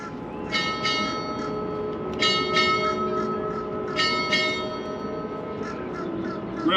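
Six strikes of a ship's bell at a US Navy retirement ceremony, rung in three evenly spaced pairs of bright metallic clangs, each ringing out over a steady low background hum.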